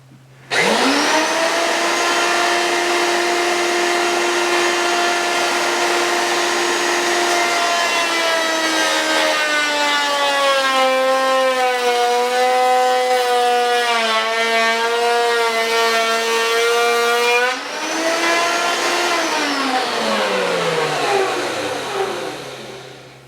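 A rotating cutter machines wood on a table, giving a loud, sustained, close-up motor whine that rises as it bites into the workpiece, shifts in pitch mid-cut, then spins down.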